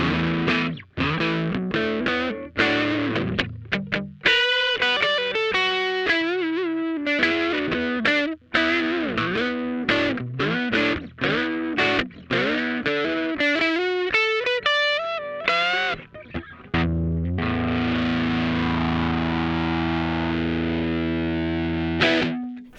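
A modular synthesizer through a Bored Brain Music Injectr drive plays a heavily distorted, busy sequence of gritty, buzzing notes, loud and continuous, ending on a sustained droning chord.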